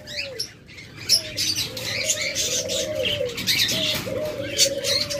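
A caged pair of lovebirds calls with bright, shrill chirps scattered over a steady series of lower, drawn-out tonal calls, close and fairly loud, with no one speaking.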